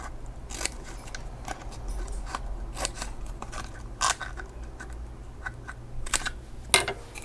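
Scissors snip an asterisk shape into a recycled cylinder for a craft tree, giving a series of short, crisp cutting clicks at an irregular pace over a low steady hum.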